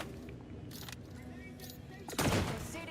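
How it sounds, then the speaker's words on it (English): A bio grenade goes off in The Outer Worlds 2, a sudden loud burst about two seconds in that hisses and decays under ongoing game noise and scattered clicks. "Let's throw a bio grenade in there."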